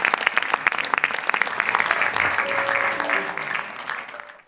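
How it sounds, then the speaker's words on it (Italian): Warm applause from a concert audience, many hands clapping loudly at first, then thinning and fading toward the end. "il pubblico, che ha mostrato il suo apprezzamento con calorosi applausi"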